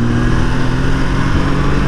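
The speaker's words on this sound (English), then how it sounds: "And then we'll throttle out." A Can-Am Ryker 900 three-wheeler's engine pulls out of a corner under throttle, a steady loud mid-pitched drone heard up close, mixed with wind noise.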